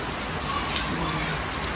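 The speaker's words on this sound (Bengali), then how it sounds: "কি বৃষ্টি" Heavy rain pouring steadily on surfaces at home during a downpour, a dense, even roar of drops with no pauses across the short stretch.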